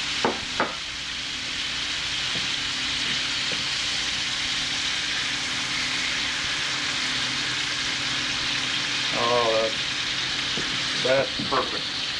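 Red fish fillets laid into a hot pan give a steady, loud sizzle that fills the whole stretch, with a few soft clinks and scrapes of a utensil against the pan.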